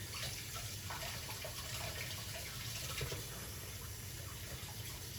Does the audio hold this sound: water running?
yes